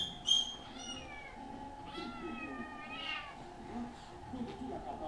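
A cat meows repeatedly indoors, several drawn-out, rising and falling cries spaced through the scene over a faint steady hum, with a person speaking quietly in the background.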